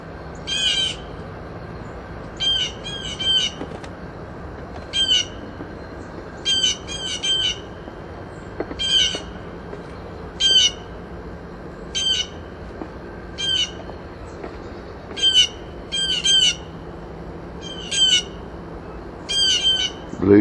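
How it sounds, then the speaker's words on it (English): A blue jay gives repeated harsh squawks, singly and in quick bursts of two or three, spread across a December winter backdrop with a steady low hiss beneath. "Blue jay."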